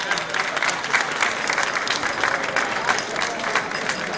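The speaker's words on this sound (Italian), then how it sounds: "Fatemi sentire con un bellissimo applauso." Sustained audience applause at the San Vittore village festival in Davoli Borgo, a dense, steady wash of many hands clapping, moderately loud and continuous throughout with no voices over it.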